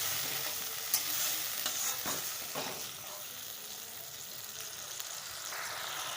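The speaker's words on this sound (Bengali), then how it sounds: "মশলাটা কষা হয়ে গেছে, এবার মশলা ধোয়ার বাটির জলটাই দিয়ে দিলাম।" Water from a spice-washing bowl is poured into fried spice paste for a prawn-stuffed pointed gourd dolma, giving a soft, steady sizzle with close scraping stirs over it.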